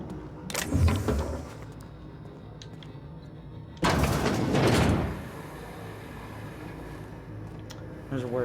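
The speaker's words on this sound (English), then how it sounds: "Can't even open these freaking doors." Doors in The Outer Worlds on Xbox One slide open with two mechanical whooshing bursts, a shorter one first and a louder, longer one a few seconds later, over steady game ambience.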